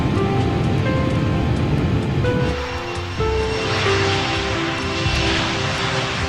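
Engines of a BAC 111 airliner wind up during start-up, a loud, dense roar with rising whining tones layered on top, continuous and close throughout.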